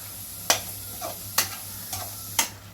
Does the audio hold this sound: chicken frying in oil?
yes